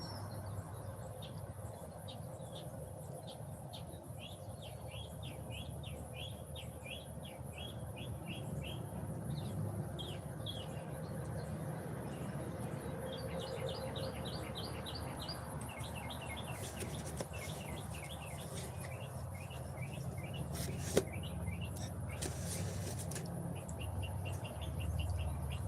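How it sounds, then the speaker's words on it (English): Small birds chatter and chirp in quick repeated bursts outdoors, fairly distant and soft, over a steady bed of insect and cricket-like buzzing. "you hear the birds over here just chattering away"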